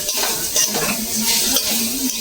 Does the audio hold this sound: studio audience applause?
no